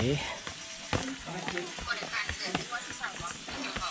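Duck blood bubbling and sizzling in a hot pot, a steady hiss with frequent sharp pops and crackles close by, with faint voices in the background.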